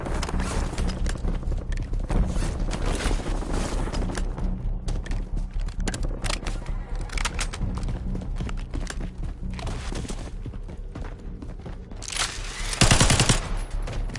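Sustained gunfire in the video game Warzone, dense rapid shots and bursts rattling continuously, with a louder close burst near the end.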